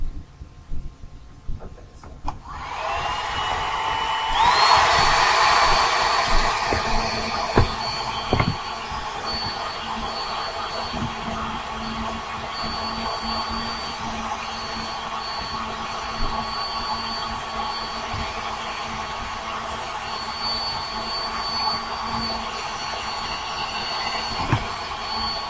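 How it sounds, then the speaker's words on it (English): A blow dryer drying glue on a hair weave closure, a loud steady whooshing hum that swells for a few seconds near the start, then holds a constant airflow drone with a faint whine throughout. "you can take a blow dryer, and you want to dry the glue so it can, be sticky"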